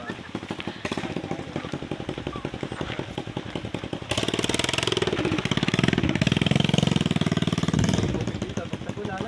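A motor tricycle engine idles and putters with a rapid, rattling rhythm, growing louder midway as it revs, close by.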